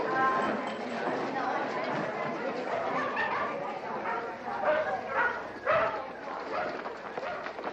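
Several dogs bark and yip at a dog show, including collie and German Shepherd classes, sounding dense and busy with crowd chatter and a public-address voice over it.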